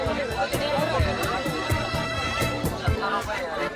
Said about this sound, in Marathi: तर जत्रेत गर्दी एवढी आहे की तुम्हाला आवाजात पण थोडासा प्रॉब्लेम जाणवत असेल